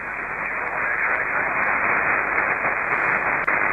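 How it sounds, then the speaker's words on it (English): Steady broadband radio static hisses on the 12 meter amateur band, a loud, unbroken wash of noise with a brief dropout near the end. "Well, look at the noise on 12 meters."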